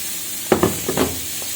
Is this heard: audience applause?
no